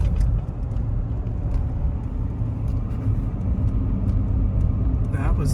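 A Toyota Tundra pickup drives along after a needle bearing and CV axle replacement, its steady low road rumble and engine hum heard from inside the cab, with faint talk mixed in.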